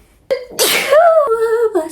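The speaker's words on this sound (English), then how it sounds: "I need to sneeze." A person sneezes once, loudly and close, with a sharp breathy burst followed by a voiced trailing sound, recorded indoors among a collection of plush toys.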